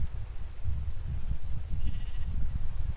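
Sheep bleating in the Minecraft video game, a short game sound effect heard over a soft rumbling background, with no speech.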